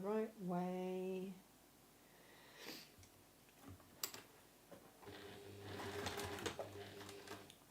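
Sewing machine running a quarter-inch seam around a three-pocket tote bag, a short whirring burst at the start followed by fainter clicks and a longer stretch of mechanical stitching near the end, with a voice briefly heard.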